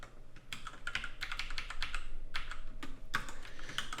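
Steady fast typing on a computer keyboard while writing C++ code for a 6502 CPU emulator, close clicky keystrokes in dense bursts with brief pauses, no voice.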